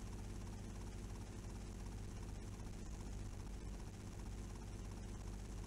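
Helicopter in GTA Vice City Stories flying among city buildings, a steady, dense low rotor drone and engine roar filling the whole stretch at constant loudness, with no clear voices.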